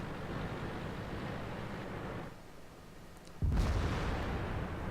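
Tank gun shot hitting an IS-8 in World of Tanks: a heavy, booming impact lands suddenly after a brief lull in rumbling battle noise, then settles into a loud ongoing roar.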